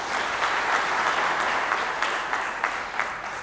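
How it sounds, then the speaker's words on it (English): An audience at a policy lecture on climate action claps together in a dense, even burst that holds steady, with scattered louder claps standing out near the end and no one talking. "So let's clap for him."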